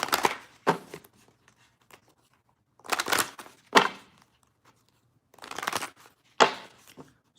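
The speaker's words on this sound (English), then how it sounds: "We're gonna shuffle some cards" Romance tarot cards being shuffled by hand: three bursts of crisp riffling and rustling, close and clear, separated by short pauses and a few lighter taps.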